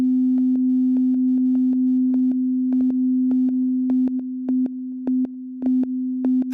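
A steady, pure ungated sine tone from a modular synthesizer holds throughout, broken by brief clicks and blips at irregular intervals.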